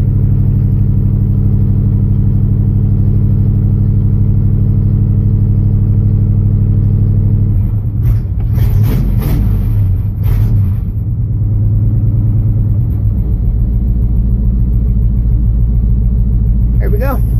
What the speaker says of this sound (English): I'm starting right now with absolutely no choke.